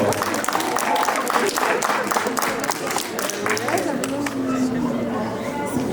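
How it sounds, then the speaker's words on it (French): A crowd at a cat show in Gien claps steadily amid loud chatter and talking voices, a dense, continuous wash of applause and noise in a large room. "vous pouvez l'applaudir très fort."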